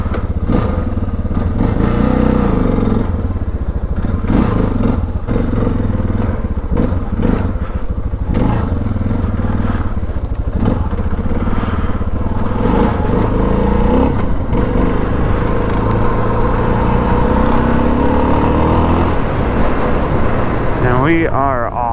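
Motorcycle loaded for solo camping pulling away and cruising down the road, its engine running loud and steady with wind rush throughout.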